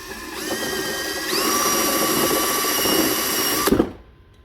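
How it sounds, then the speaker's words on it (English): 5/16 drill bit boring out plastic welds on a BMW door handle: a close power drill whines for a few seconds, rises in pitch midway, then cuts off sharply. "I have a 5/16 drill bit, and you don't want to go crazy. You just want to break off the plastic weld, just like that."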